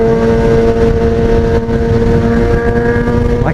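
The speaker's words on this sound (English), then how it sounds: "I can hear my bike screaming when I go next to cars." A motorcycle's exhaust screams loud and close, a sustained high-revving engine tone with a strong steady pitch that shifts slightly near the end, heard without talking.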